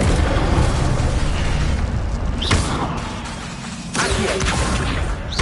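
Incendio fire spell cast in Hogwarts Legacy, loud explosive fire bursts with crackling pops, two sharp flare-ups over a continuous roaring rumble.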